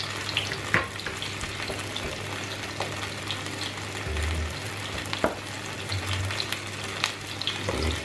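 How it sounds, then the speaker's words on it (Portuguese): Alheira from Torre de Moncorvo frying in olive oil in a pan, a steady close sizzle with occasional scraping clinks of stirring, continuous and alone without talk. "Pôr mais um pouco de azeite e vamos mexer."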